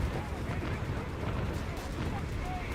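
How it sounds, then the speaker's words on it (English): Anti-tank guns firing in the World War II strategy game Company of Heroes, heavy booming shots rolling through dense continuous battle noise with speech-like chatter underneath. "Wow, both anti-tank guns missed."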